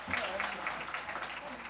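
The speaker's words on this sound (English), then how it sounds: "when the USA crowd is applauding" A crowd at a taijiquan competition claps after a staff performance, with dense and fairly steady applause throughout. A commentator talks over it.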